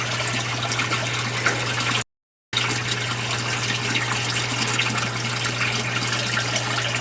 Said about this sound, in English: Now that that siphon has broken, it's now going to allow that first bed to fill